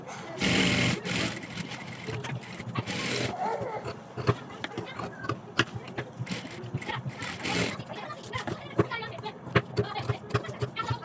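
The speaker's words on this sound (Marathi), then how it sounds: "आता ह्या कपड्यावरती आपल्याला कॅनव्हास ठेवून शिलाई मारून घ्यायची आहे." A sewing machine runs in quick bursts, stitching canvas onto kurti fabric for a stand-collar kurti, with whirring passages broken by pauses and clicks, while a voice talks over parts of it.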